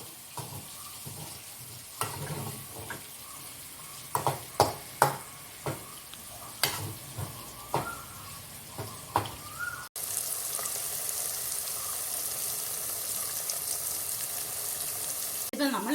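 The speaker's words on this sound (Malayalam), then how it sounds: "നമ്മളിത് മീൻ വറക്കുമ്പോൾ ഒത്തിരി അങ്ങ് മൂത്ത് പോകരുത്" Moha fish frying in a pan for Kerala-style fish pickle, with a spatula stirring and scraping in irregular clacks, then a steady close hiss of oil sizzling.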